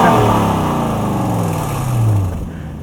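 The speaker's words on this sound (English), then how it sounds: "Give it a little rev while you're up there." A 1998 Lexus GS 400 engine revved once, heard up close as a loud rising roar that falls away slowly, briefly picks up again and then cuts off.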